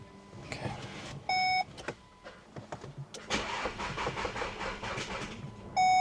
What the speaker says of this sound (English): Let's see if I can get this car to start now.